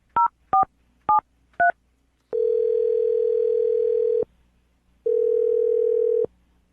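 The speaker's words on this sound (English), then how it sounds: "I'll dial this phone number right now, okay?" A telephone keypad sounds four short DTMF tone beeps, then a steady ringback tone pulses in two long stretches separated by silence, clear and close with no talk.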